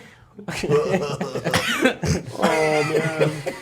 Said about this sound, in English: Just start coughing.